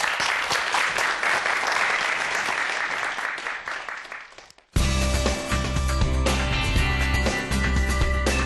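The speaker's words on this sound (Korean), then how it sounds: "그럼 교수님의 강의를 박수로 청해 볼게요." Studio audience applause at a Korean science television lecture by an orthopedic surgery professor from Korea University Hospital, dense clapping that fades out, then cuts abruptly to a loud musical passage.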